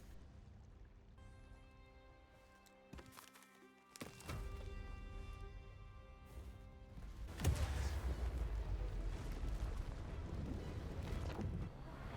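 Sea of Thieves game sounds: a steady tone with a few thumps, then a heavy booming blast that fades into a loud rumbling wash, like a cannon shot.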